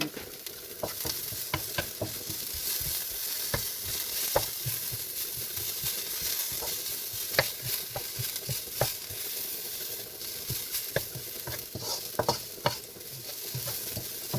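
Coconut rava mixture being roasted and stirred in a single pan, a soft continuous sizzle broken by frequent scraping strokes of the spoon, close and fairly quiet, with no talking.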